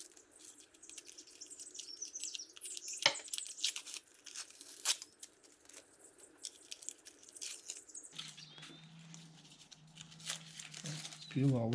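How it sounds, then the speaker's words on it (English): Tape or protective film being peeled during fitting of a third brake light on a 1963-66 C2 Corvette, with rough tearing rasps in short bursts and a sharper rip near the start, followed by quieter crinkling. "Peel all this off."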